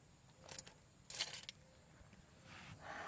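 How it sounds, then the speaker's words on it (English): Car keys jangle and clink as they are set down inside a parked hybrid car, a few quick metallic rattles, close and quiet, with faint cabin noise around them. "Let me put my keys down."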